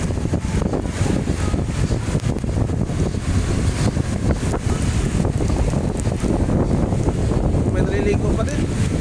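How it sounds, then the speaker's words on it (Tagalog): Strong typhoon wind and big waves roar steadily on the coast at Naic, Cavite, a dense, continuous rushing noise that buffets the microphone, with a voice faintly underneath. "Lalaki ng alon."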